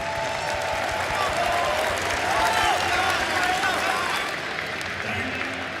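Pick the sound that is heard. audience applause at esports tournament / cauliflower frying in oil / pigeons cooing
audience applause at esports tournament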